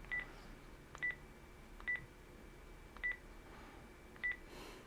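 A Panasonic DECT 6 KX-TG175C cordless phone plays its keypad dialing tones as a slow series of five short, evenly spaced beeps, each one a separate key press, faint against a quiet room hiss.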